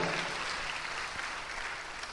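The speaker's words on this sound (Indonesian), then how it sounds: "Tepuk tangannya paling meriah buat Tuhan kita." Steady, dense applause from a large crowd, sustained and evenly loud throughout with no voices breaking through.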